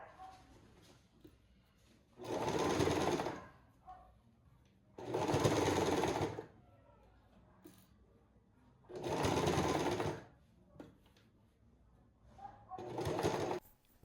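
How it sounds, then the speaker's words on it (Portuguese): Sewing machine stitching a blouse seam, running in four loud bursts of about a second or so each, separated by quiet pauses for repositioning the fabric. "Eu abaixo a agulha, levanto o pé calcador, giro a outra parte para ficar rente e retinha e prossigo a costura."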